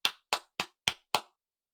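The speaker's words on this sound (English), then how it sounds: "Round of applause." Five evenly spaced hand claps ring out crisply and close, a brief slow round of applause with sharp attacks and quick decays, then silence.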